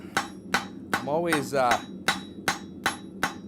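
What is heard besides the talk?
blacksmith hammer striking steel cloak pins on anvil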